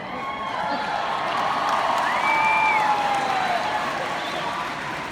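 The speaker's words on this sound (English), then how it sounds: "I don't know what you're cheering about" An audience cheers and whoops at a Tim Tebow speaking event, a steady, moderately loud crowd roar sustained throughout with a few higher shouts rising above it.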